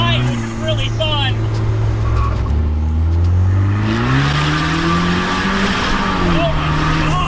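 A 2020 Vanderhall Carmel three-wheeler is driven hard through corners, its engine droning loudly and rising and falling in pitch as it revs between bends, with someone talking over the steady noise.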